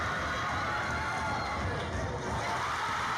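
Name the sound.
gym crowd cheering at basketball game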